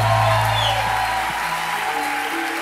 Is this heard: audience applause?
yes